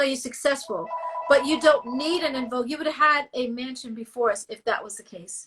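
A telephone rings with a steady electronic tone during an interview, partly masked by the continuous conversation over it.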